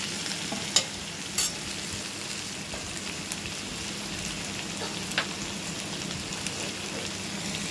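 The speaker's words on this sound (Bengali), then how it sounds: "নুন, আদা বাটা দিয়ে ভালো করে মশলাটা কষিয়ে নিয়ে সবজিগুলো দেবো।" Vegetables frying in a masala of ginger paste and salt for Bengali shukto, a steady, close hiss of sizzling oil with a few sharp spatters and stirring knocks, no voices.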